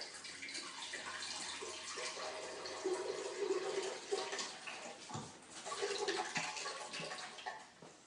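Coconut water pours steadily into a container, a continuous close splashing gush with slight shifts in flow, about one and a half cups' worth.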